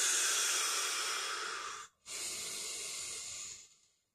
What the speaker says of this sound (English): Take a couple of breaths.